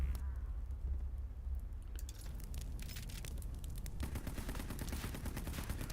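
Gunfire sounds in the video game Headquarters Cold War, a faint rattle of rapid shots and bursts that grows busier toward the end, heard at low volume.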